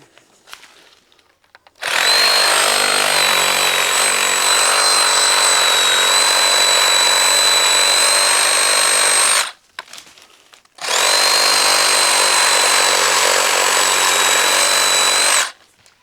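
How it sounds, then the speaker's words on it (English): A reciprocating saw cuts through a Green Michurinska fig tree branch in two long, loud, buzzing runs of about seven and five seconds, separated by a brief pause, with no speech. "we'll get the sawzall and cut that loose"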